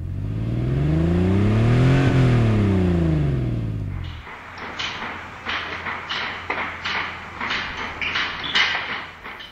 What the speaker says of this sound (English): I've converted this car to be able to run on cow emissions